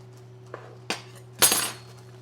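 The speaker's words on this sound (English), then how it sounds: "I'm just going to cut off a bit of this butter and toss it in my pan so it'll melt" Butter being cut and tossed into a pan in a home kitchen: a few sharp clinks and knocks, the last one loudest and briefly ringing, against a low steady hum.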